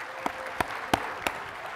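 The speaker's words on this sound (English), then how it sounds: "Let's give him a round of applause." Four sharp, evenly spaced claps from a conference audience at an ECM trade show, brief and fairly faint, with no talking.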